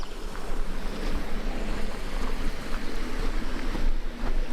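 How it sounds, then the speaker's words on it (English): A creek flows near a muddy bank among the Sierra Nevada forests of Kings Canyon and Sequoia, giving a steady, dense rush of water with no pauses and no voices. "It is a nice creek"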